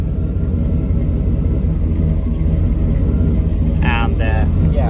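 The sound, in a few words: car engine idling with skipping misfire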